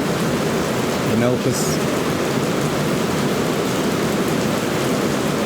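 Heavy rain pours down steadily as a dense, constant hiss throughout, with a brief spoken word near the middle and a short higher chirp over the downpour.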